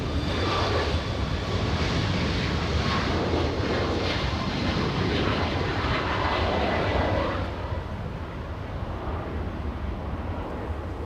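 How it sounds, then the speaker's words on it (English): Airliner taking off at Los Angeles International Airport, its jet engines a loud, sustained roar heard from nearby that eases slightly toward the end, with no voices. "Let's go for the takeoff."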